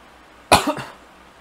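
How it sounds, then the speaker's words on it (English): A single sharp cough close to the mic, a quick double burst, surrounded by quiet. "How very convenient I cough as I'm doing the voiceover"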